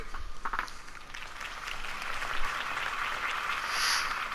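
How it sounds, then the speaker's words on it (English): Crowd applause after a campaign speech in the Batman Telltale video game, a steady wash of clapping at moderate level that holds for several seconds without a break. "If only Mr. Wayne, my campaign's largest backer, could have heard that applause"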